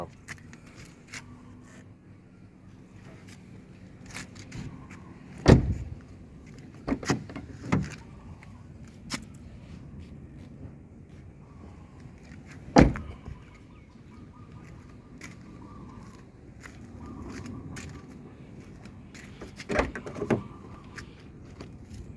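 Quiet interior of a 2003 Toyota Vios with faint motor hum as power windows move, the left one not going down, punctuated by several sharp clicks and thumps; no one speaks.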